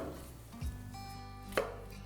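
An onion being cut coarsely with a knife for a dhaba-style paneer dish: two distinct chopping strikes, close and fairly soft, over a steady low background hum.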